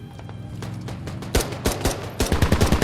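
Gunfire in the Squad military shooter set in a Fallujah map: scattered distant shots build into close, rapid bursts of automatic fire, loud and sharp, with no talk over them.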